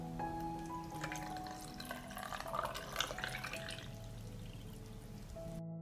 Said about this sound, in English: I fill the jars with water to cover the tomatoes